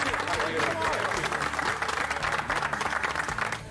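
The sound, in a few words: audience applause for Gordon Ramsay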